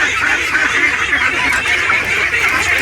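A flock of free-range ducks quacks continuously and loudly close by, many overlapping nasal calls forming a dense, steady chorus with no talking.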